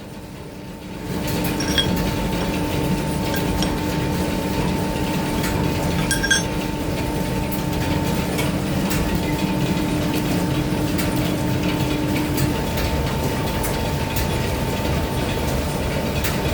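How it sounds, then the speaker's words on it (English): An 1890s lineshaft-driven workshop machine runs slowly, its ball wheel turned by a pinion above and driving a pinion on a rack, giving a steady mechanical drone with a faint hum and occasional light clinks and ticks. "very slowly the ball wheel is turning, being driven by the pinion above, and then driving the pinion on the rack"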